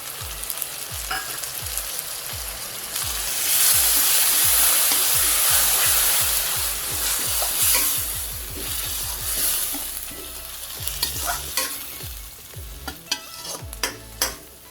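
Chopped tomatoes fry loudly in a pan for chicken kuzhambu, a bright continuous sizzle swelling midway while a spoon scrapes and stirs in quick repeated strokes, close up and without talk.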